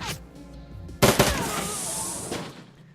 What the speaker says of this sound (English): the gunfire dies down and the smoke clears